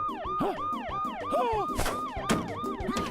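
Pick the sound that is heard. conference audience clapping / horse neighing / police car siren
police car siren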